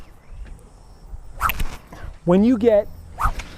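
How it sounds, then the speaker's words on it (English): Golf club swung through the air during a no-ball warmup routine, with several short whooshing swishes at close range, spaced irregularly and interleaved with someone talking. "Now, you should have really loud whooshes."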